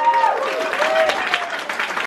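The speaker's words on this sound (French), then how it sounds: "Je crois qu'on peut applaudir." Audience applause at a children's book fair event in Montreuil, clapping crowd sustained throughout over a busy mix, with faint tones and voices woven in.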